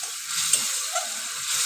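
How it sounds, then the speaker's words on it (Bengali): Kashmiri chilli powder, turmeric and salt stir-fried over low heat in a pan with mustard and prawns, a soft steady hiss with faint stirring scrapes, brief and without talk. "এই সব কিছু আমি এর মধ্যে দিয়ে দিলাম, দিয়ে আঁচটা হালকা করে আমি একটু কষে নেব।"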